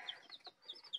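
High, thin peeping of young chicks, several quick repeated cheeps close by in a busy little chorus.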